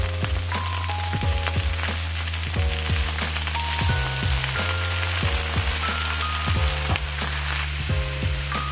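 Gongura (sorrel) leaves fry in hot oil in a pan, giving a steady, close sizzle with dense crackling and popping throughout, no voices.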